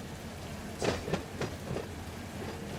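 A train in the Run8 train simulator game rolls along with a steady low rumble, broken by a few short clanks and knocks near the middle.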